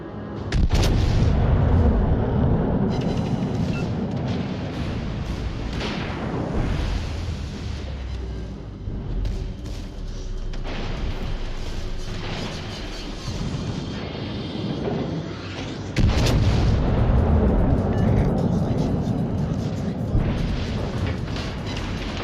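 Heavy warship artillery fire in World of Warships Legends, deep booming salvos and rumbling blasts rolling through loud, sustained battle noise, with a fresh volley standing out near the end.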